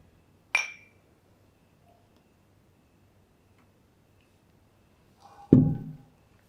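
Two sharp glass clinks in a toast, one early and one near the end, each a bright ringing ping over a quiet room hum.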